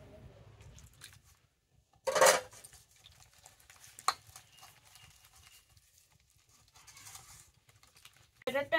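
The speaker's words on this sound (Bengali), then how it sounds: "ব্যাটারটা আমি গুলে নিয়েছি।" Batter for banana flower fritters is mixed by hand in a bowl, heard as soft irregular taps and a few sharp clinks over faint background noise, with a louder scrape near the start.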